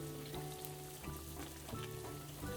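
Pirozhki fry in hot oil at medium heat, a soft, steady sizzle with scattered crackles and pops, faint and close, with no voices.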